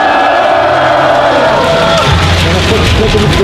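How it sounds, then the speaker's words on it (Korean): Crowd at a Korean rally shouting and cheering loudly for a pastor, a dense continuous roar of voices with yells breaking through, steady and close for the whole stretch. "우리 이종윤 목사님께 여러분 다시 한번 큰 함성 부탁합니다."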